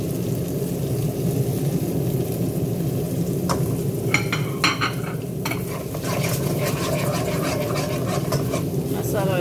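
Masala is tipped into jackfruit curry frying in a pan and stirred: a steady sizzle runs throughout, and from midway a spoon scrapes and clatters against the pan in quick, irregular strokes.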